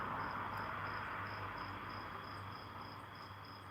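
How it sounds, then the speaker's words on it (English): Crickets chirping loudly outdoors at night, a dense, continuous high trill that holds steady throughout, close and prominent with no talking over it. "The crickets are loud, but they are comforting"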